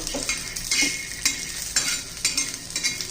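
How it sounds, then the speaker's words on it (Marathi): Peanuts roasting in a little oil in a pan give a soft continuous sizzle, broken by repeated rhythmic scrapes and clinks of a spoon stirring them, close and moderately loud. "आता प्रथम आपण थोडीशी शेंगदाणे भाजून घेऊया दोन चमचे थोडस तेल टाकूया"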